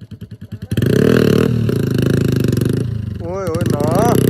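A Royal Enfield Bullet motorcycle starts with a few rhythmic thumps, then settles into a loud, steady chugging idle close by, with a wavering tone rising over it near the end.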